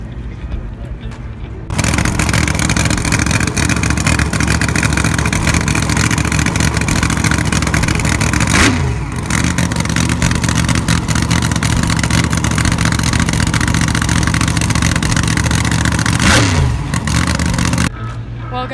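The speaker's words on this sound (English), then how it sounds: "They're not gonna race, but they're gonna start up their engines." Drag racer engines started up and revved at a car show, a loud sustained throaty roar with two brief dips and surges, close by and dominating throughout.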